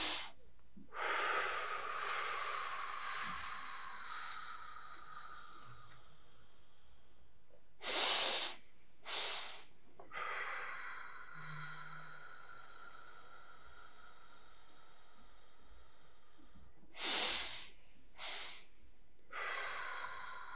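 Someone performs a forceful breathing exercise, with several sharp, strong inhales and exhales in separate bursts and quiet pauses between them, close and alone.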